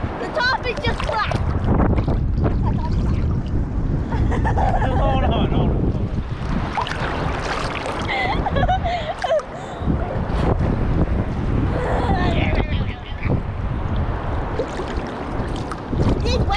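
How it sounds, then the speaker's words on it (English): Wind buffets a boat on the water off Clearwater as ocean waves slosh and crash around it, a loud, gusty roar with people talking over it. "These waves are getting out of control."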